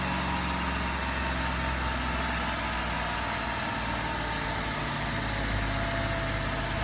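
A 2013 Ford F-150 engine runs at a steady idle after a jump start at a city auction, a low continuous rumble with a faint, even vibration and no talk.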